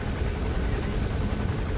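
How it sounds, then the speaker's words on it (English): A helicopter in the video game Metal Gear Solid V: The Phantom Pain drones steadily with a dense rotor throb and wash, loud and continuous throughout. "Yeah, there's the chopper."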